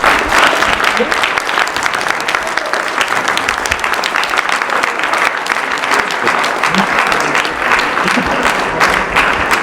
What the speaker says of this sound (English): Let's give both of our candidates a big round of applause.